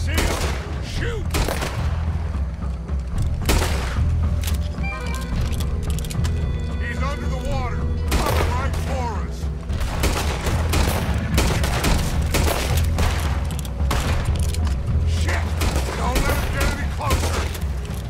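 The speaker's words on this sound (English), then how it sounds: "Put every bullet you got in him!" Repeated gunshots crack out in the Western game Red Dead Redemption 2, sharp loud reports spaced irregularly through a sustained firefight, with character voices shouting between the blasts.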